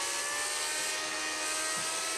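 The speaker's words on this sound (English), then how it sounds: "that's definitely the real engine sound of the car" A Formula 1 car in the racing game Project Cars 2, in a 1963-era race at Silverstone, screams at high revs with a loud, steady, whining engine tone and no talking.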